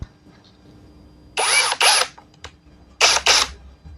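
INGCO CIDLI209681 13mm cordless impact drill running unloaded for a speed test, with two pairs of short, sharp whirring bursts separated by quiet gaps.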